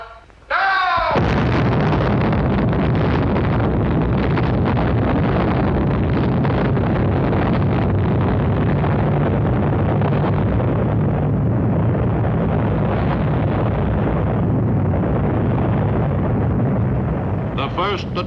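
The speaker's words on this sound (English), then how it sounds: "The first atomic bomb explosion was an impressive success." The first atomic bomb test explosion produces a loud, sustained roar and rumble. It starts abruptly and holds steady and heavy for roughly eighteen seconds before beginning to ease at the end.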